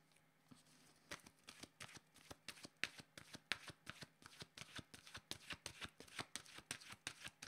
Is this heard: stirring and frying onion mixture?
no